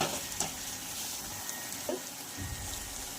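A gram-leaf curry with homemade ground masala is stirred in a pan: soft scraping strokes and a faint sizzle, quiet and close, with no talking.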